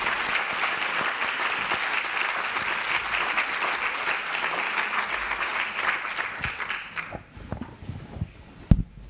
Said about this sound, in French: Je crois qu'on peut les applaudir très très très fort